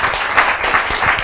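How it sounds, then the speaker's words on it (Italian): A crowd at a motocross race applauds the riders, producing a brief burst of dense, fairly loud clapping that continues steadily throughout. "Intanto facciamo una parte di applausi per questi qua."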